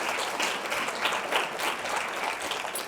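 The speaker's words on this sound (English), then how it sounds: "you can give a round of applause for yourselves" A room of attendees at a women's community program claps in steady, fairly loud applause that carries on throughout with slight surges and no break.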